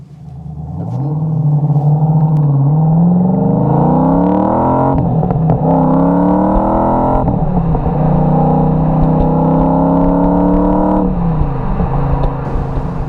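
A TVR Chimaera 500 pulls hard at full throttle, its engine note climbing through the revs, dropping briefly at a gear change, then rising again in a loud, close, continuous roar.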